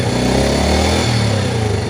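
A motorcycle engine runs loud and close, revved by the throttle in a steady, rough roar that swells slightly and holds.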